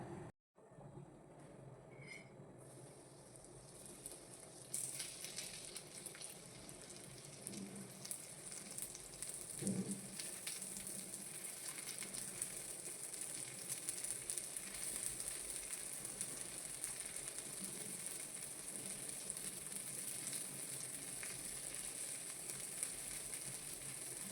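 Semolina-coated prawns sizzle on a hot tawa, a steady bright frying hiss that swells after a few seconds and carries on evenly and close, with a faint thump partway through.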